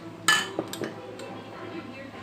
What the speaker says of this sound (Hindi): सबसे पहले हम इसमें मैं बर्फ़ ऐड करूँगी